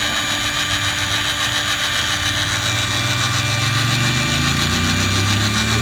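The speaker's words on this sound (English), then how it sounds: "hit the button down here in reverse on the Milwaukee, and watch it goes counterclockwise" A Milwaukee M18 FUEL pipe threader runs in reverse while spinning off black iron pipe for a gas line, giving a loud continuous motor whine and gear drone that shifts lower toward the end.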